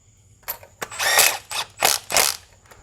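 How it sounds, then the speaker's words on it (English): Impact wrench running in the engine mount bolts on an RA1 Honda Odyssey during a JDM F23A engine swap, giving several short bursts of whirring and hammering, close and loud, with brief pauses between them. "Just going to use the impact to get them close."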